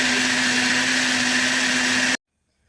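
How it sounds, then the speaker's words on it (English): A kitchen blender whirs steadily as it purées green tomatoes and peppers for salsa, a loud continuous motor drone that runs for about two seconds and then cuts off abruptly into silence. "I've added all of the green tomatoes and the peppers to the blender."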